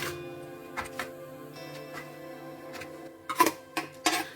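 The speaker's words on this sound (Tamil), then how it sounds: "கொஞ்சம் நல்லா பொடியாக கட் பண்ணிக்கலாம்." A knife finely chops tender coconut flesh for halwa, producing light, irregular taps against a cutting board that get firmer and quicker toward the end, with a faint steady hum behind them.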